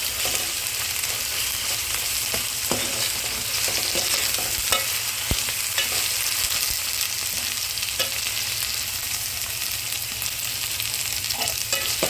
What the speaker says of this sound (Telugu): కాలీఫ్లవర్ కర్రీకి 1 స్పూన్ అల్లం వెల్లుల్లి పేస్ట్ వేసుకొని కాస్త వేగిన తర్వాత వేయించాలి